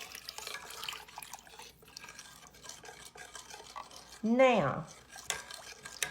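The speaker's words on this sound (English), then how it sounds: "I'm going to add the 2 cups of whole milk. Stirring that around." Whole milk being stirred into potato soup in a pot, a soft continuous scraping and sloshing at close range with a louder burst of clinking near the end, under a brief spoken word.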